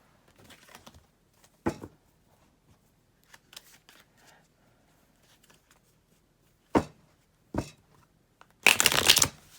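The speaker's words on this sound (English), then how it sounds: "As I shuffle the cards" Tarot cards being shuffled in a quiet room, several short crisp riffles and flutters spaced apart, close and clear, ending in a louder burst.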